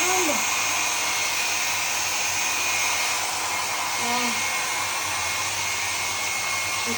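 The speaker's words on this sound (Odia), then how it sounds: "ଏବେ ଟିକେ ଡ୍ରାୟର ମାରିଲା ପରେ ଭଲ ହେଇଗଲା" A hair dryer blows on someone's hair with a constant loud whooshing roar and a low motor hum, running throughout while a voice speaks briefly beneath it.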